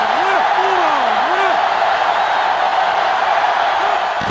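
Steady roaring stadium crowd from the NCAA Football 2005 video game, a continuous loud wash of cheering with an announcer's voice talking over it.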